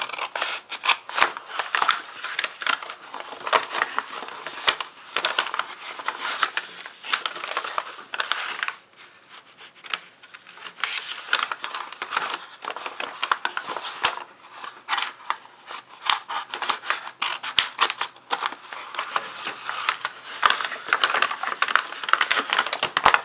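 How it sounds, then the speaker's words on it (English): Scissors cut through paper along a fold line in a handmade gratitude journal, producing a long run of close, crisp snipping crunches with a short pause partway through. "or you can cut down this way and get yourself a bigger pocket. So I'm going to cut down that way."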